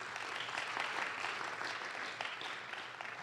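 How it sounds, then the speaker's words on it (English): Sustained audience applause at a city council meeting, a steady dense wash of clapping from a crowd that holds evenly for the whole stretch without speech on top. "Huge round of applause, please."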